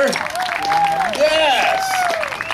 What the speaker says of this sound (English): give him one more big round of applause